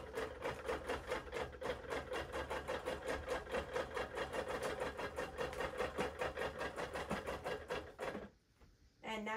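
A sewing machine bastes layers of a quilt in a fast, steady rhythmic stitching run that stops abruptly near the end.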